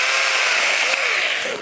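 A Saker mini chainsaw cuts through a branch with a loud, steady high-pitched buzzing whine, close and continuous, its pitch easing slightly as the cut finishes.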